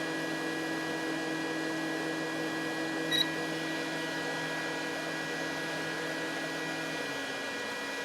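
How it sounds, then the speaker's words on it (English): The cooling fan of a Kenwood Basic M2A power amplifier runs steadily, giving a low, even whir with a faint tonal hum, alone and fairly quiet, with a tiny click partway through. "5 minutes in, the fan comes on. That should remove a lot of heat."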